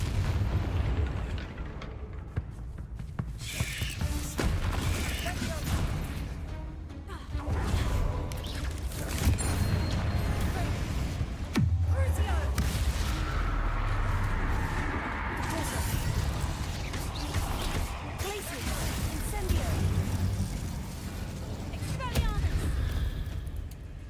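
Fiery explosive blasts from the Confringo spell in the Hogwarts Legacy video game, heard as loud, dense booms and crackling bursts over a constant game soundscape, with character voices speaking throughout.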